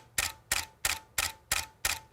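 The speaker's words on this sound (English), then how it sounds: "every time they press down the shutter release, they get 2 shots" Camera motor drive firing its shutter repeatedly at a steady rhythm, six sharp mechanical clacks roughly every third of a second, close and clear with no talk.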